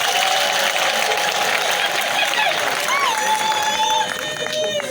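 Steady applause from a provincial assembly gathering in South Kivu, a dense wash of clapping with high whistles or tonal calls over it that eases slightly near the end.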